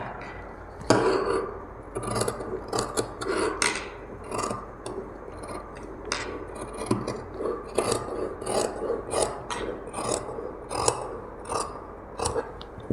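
Scissors cutting cloth for a puff sleeve, a close run of crisp rasping snips and slides through fabric in irregular bursts, with no talking.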